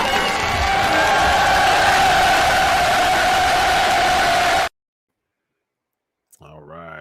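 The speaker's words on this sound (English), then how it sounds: "Give a big round of applause." A large crowd applauds and cheers loudly for several seconds, then cuts to silence before a voice begins.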